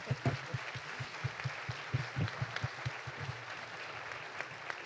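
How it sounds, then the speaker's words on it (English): A round of audience applause at a leadership forum, sustained clapping from a sizable crowd heard at moderate distance, with a few sharper individual claps standing out near the start. "Let's give them a big round of applause."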